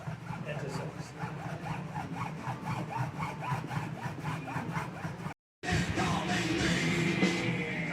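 A hacksaw cuts through a plastic part on a 1972 Chevelle, with steady back-and-forth rasping strokes close by. The sawing runs loud and continuous, with a brief pause near the end before the strokes resume.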